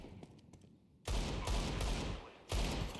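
Bursts of rapid gunfire in a Counter-Strike match, with a quieter spell of scattered shots giving way to a loud sustained volley, a brief pause, then another heavy burst close by.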